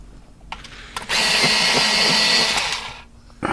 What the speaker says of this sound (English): I'm going to sharpen this one up.